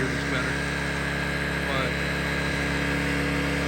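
A Honda Metropolitan scooter engine idles steadily nearby with a constant, even drone and no clear revving, while a voice speaks briefly over it.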